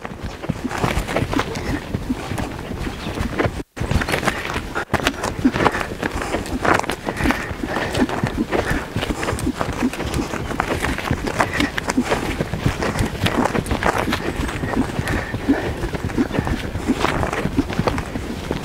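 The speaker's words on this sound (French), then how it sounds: "Est-ce que le cheval marche de manière calme?" A horse moves on a riding surface during a dressage-style schooling session, its hooves making a steady, close clip-clop that shifts between a calm walk and a quicker trot, continuous throughout with no talk over it.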